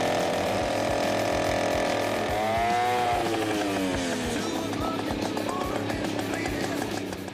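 An old, outdated chainsaw runs steadily and loudly throughout, its engine pitch rising and falling as it revs, close to the listener.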